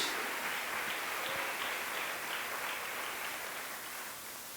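A church congregation applauds in a steady, dense wash of clapping that carries on without pause and fades slightly toward the end, with no talking over it.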